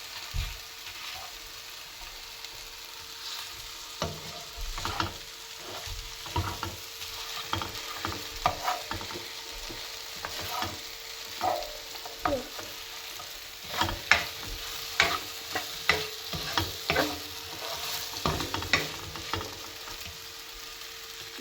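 Sausage fries in oil in a pan. A soft, continuous sizzle carries irregular scrapes and clicks of stirring, close by and with no talk.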